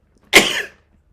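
A single loud, close sneeze bursts out and fades within about half a second, alone against a quiet background.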